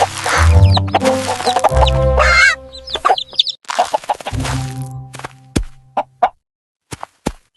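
Hens cluck loudly and repeatedly up close, a busy run of clucks and squawks that thins out into a few scattered short calls.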